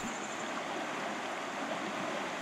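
A clear trout stream at Back Creek, Virginia, modified to improve trout habitat, flows and babbles as a steady, close, even wash of water that fills the whole stretch without a break and without any voices.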